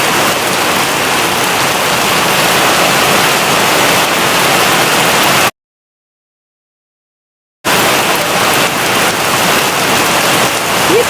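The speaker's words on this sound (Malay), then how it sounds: "Hujan." Rain falls steadily outdoors during a family chicken barbecue, a loud continuous wash of hiss that runs throughout, broken by a short silent gap partway through.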